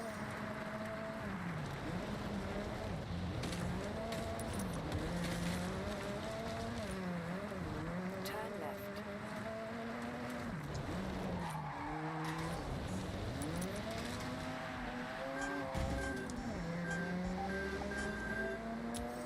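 Mazda RX-8 rotary engine in Forza Horizon 6, revving and shifting through gears with rising and falling pitch, tires skidding and squealing through corners, loud and continuous under a busy game soundscape.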